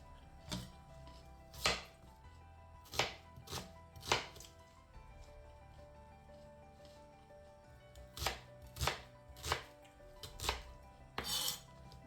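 An onion being cut into pieces on a board, sharp knife chops arriving in spaced clusters of two or three, crisp and fairly close, with quiet gaps between.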